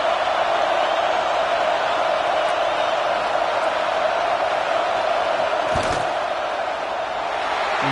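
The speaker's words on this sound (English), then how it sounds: "This crowd trying to do its part to get inside the kicker's head." Steady roaring crowd noise fills a stadium during a field goal attempt in College Football 26, LSU versus Texas A&M, a loud, unbroken wall of sound lasting throughout.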